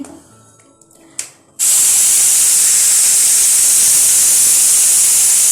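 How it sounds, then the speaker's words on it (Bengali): A fish head drops into hot oil in a wok, bursting into a loud, steady sizzling hiss after a brief quiet moment and continuing unbroken close by. "ভাজতে ভাজতে মাথা ভাজা"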